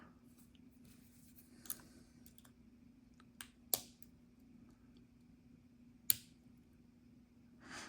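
A pack lock being picked by hand, heard as sparse, faint metallic clicks and ticks spaced irregularly over a low steady hum, with one or two sharper snaps standing out.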